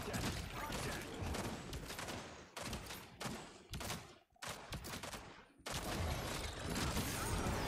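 Big-bullet gunfire from a hero in the Predecessor video game, bursts of heavy shots with brief gaps and one reload pause, loud and dense throughout.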